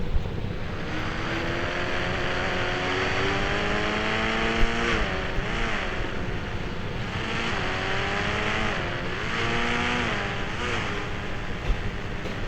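A car engine in the video game Indian Bike Driving 3D hums steadily, its pitch climbing and dropping repeatedly as the car accelerates and shifts, with no talk over it.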